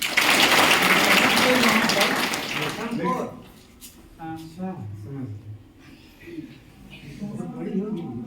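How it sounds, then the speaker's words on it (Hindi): Loud applause from a crowd at a school bicycle distribution event fills the first three seconds, then fades as someone speaks. "रेशम के लिए ताली बजाइएगा।"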